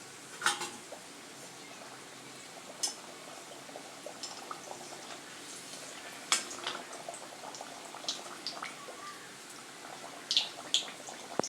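Steady bubbling sizzle of wheat-flour sweet samosas deep-frying in hot oil, with occasional sharp pops and light clinks of a utensil against the pan.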